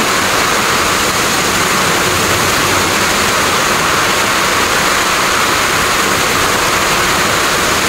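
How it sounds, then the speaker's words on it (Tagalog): Heavy typhoon rain from Typhoon Kristine pours in a dense, unbroken roar, loud and constant throughout like rushing water, with no voices standing out. "Diyos ko, ngayon lang umulan ng ganito kalakas dito sa amin"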